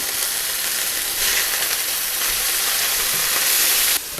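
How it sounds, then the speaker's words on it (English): Beef burgers sear in a hot pan with a steady, loud, dense sizzle that holds throughout and briefly drops near the end. "we have to get a nice sear on either side"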